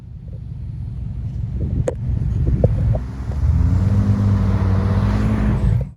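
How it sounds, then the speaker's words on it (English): A 2025 Ram TRX pickup truck's exhaust rises from a low rumble into a loud, sustained roar as it suddenly takes off, heard from outside with some wind buffeting and no talking. "this next clip, you can hear it a lot better when it suddenly takes off"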